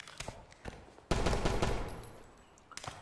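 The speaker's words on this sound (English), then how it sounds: "I need to kind of watch where I'm shooting because I don't want to just shoot all my ammo off" Gunfire in the Roblox shooter BRM5: a few scattered single shots, then a loud close burst of rapid fire that tails off into echoing reverb, with more shots at the end.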